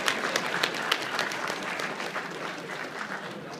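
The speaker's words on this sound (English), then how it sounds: "I think they all deserve a great round of applause as well." Applause at the 2013 Yu-Gi-Oh World Championship award ceremony for judges and volunteer staff, a dense, steady crowd clapping that fills the hall throughout.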